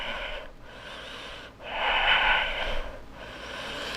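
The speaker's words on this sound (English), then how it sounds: "With your Ujjayi breathing." Ujjayi breathing during a beginner cardio yoga flow at home, heard as slow, steady, hissing breaths with a longer, louder exhale in the middle, close and alone without talk.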